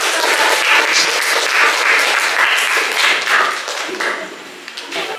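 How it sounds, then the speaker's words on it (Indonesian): An audience applauds a group that has just presented in a classroom, steady close clapping from many hands that fades slightly toward the end. "Beri aplaus untuk kelompok"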